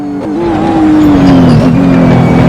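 A GT3 race car in a racing video game brakes hard, its engine note dropping steeply as it slows, with a faint tire squeal under the loud, close drone.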